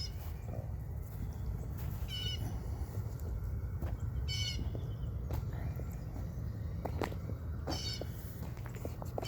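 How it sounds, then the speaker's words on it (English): Birds sing outdoors in a garden with growing kale, brief chirps and trills scattered over a steady low background rumble, no talking. "Listen to the birds a little bit and relax"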